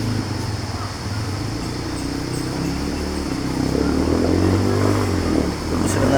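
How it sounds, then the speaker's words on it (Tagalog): Motorcycles ride through a river crossing at the Udalo River in Abra de Ilog, with a steady engine drone and rising revs throughout, loud and close, and faint voices underneath. "Meron pa ka motor na di may natawid."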